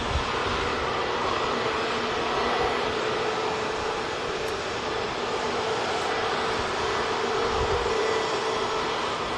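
EasyJet passenger jet touching down at Manchester Airport, a steady broad engine roar heard from a distance that holds at a constant level throughout, with no voices.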